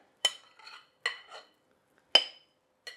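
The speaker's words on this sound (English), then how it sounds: "We are just going to spoon that fabulous mixture into our waffle maker" Metal spoon scooping sourdough jalapeño cheese waffle batter and clinking against a bowl and waffle maker: four distinct sharp clinks, each followed by a soft scraping smear, spaced irregularly in a quiet room.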